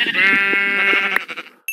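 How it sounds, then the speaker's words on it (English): A sheep in a survival video game gives one loud, close, wavering bleat lasting over a second, followed by a few brief fading sounds and a short sharp noise at the end. "Let's go bash some sheep's brains in."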